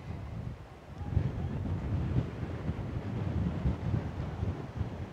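Steady wind buffets the microphone outdoors on a quiet fishing spot, a low continuous rumble with gusty swells and no talking.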